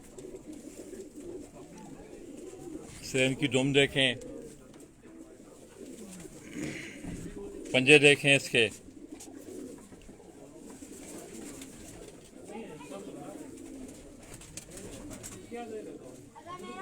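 Teddy breed pigeons coo from a loft during breeding season, in two short throaty bursts heard near and clearly beneath someone talking continuously.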